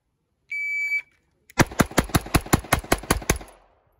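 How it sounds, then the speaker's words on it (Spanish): A timer beep, then nine rapid pistol shots fired at a one-inch circle 7 metres away, sharp, loud and close in an even, quick rhythm, with echoing decay after the last. "dispara el círculo de una pulgada lo más rápido que puedas"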